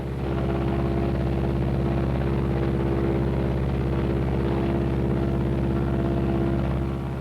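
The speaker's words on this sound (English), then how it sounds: "Put your propeller selector switch and decrease RPM, and watch how the RPM falls off on the tachometer." Loud, continuous drone of a Martin B-26 bomber's piston engines running steadily, close and unbroken, with no voices over it.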